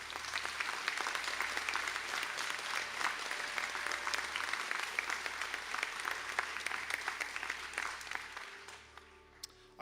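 Graduation conferring ceremony audience clapping for graduates, a dense, steady wash of applause for most of the span that thins and fades out near the end, with a low hum beneath.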